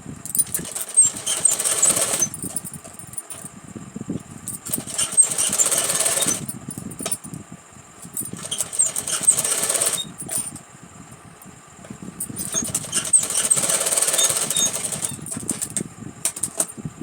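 A sewing machine runs in repeated bursts of rapid mechanical whirring, stitching a Rajputi kanchali blouse, with short pauses between the runs as the fabric is adjusted, close and steady.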